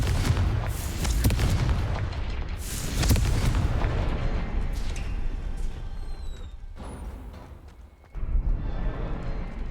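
Confringo fire spell explosions from the Hogwarts Legacy video game on PS5: dense, loud booming blasts with crackling debris, strongest near the start and around three seconds, followed by a brief lull and a sharp fresh burst near the end.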